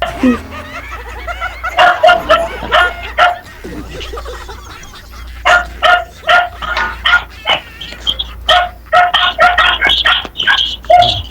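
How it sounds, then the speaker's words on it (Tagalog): Several dogs bark in loud, rapid bursts close by, pausing briefly then resuming in a dense volley, with a low hum underneath. "Yung mga aso na nag-uusap, hindi tao."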